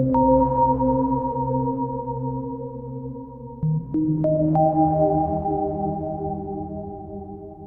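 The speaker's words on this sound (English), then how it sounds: "That's just a sine wave with a bit of reverb." Smooth, pure synth sine-wave tones from a Korg Opsix hold and step between pitches, bathed in a soft reverb tail, with no other sounds.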